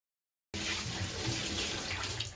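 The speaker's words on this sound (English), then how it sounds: "We're gonna just gives it a little bit of fresh water in here." Fresh water pours steadily into a spiral gold recovery setup, a continuous splashing rush that starts abruptly after a short silence and stays close and even.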